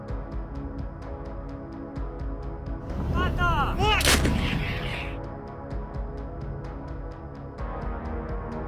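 Ukrainian artillery fires near the Orihyiv front, heavy booms rolling through a constant loud background rumble, with a sharp close blast and crackling debris in the middle.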